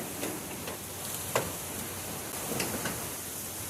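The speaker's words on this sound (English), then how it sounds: "It's a cold winter day, raining" Steady rain hiss falls outdoors on a cold winter day, continuous and even, with a few faint taps and clicks.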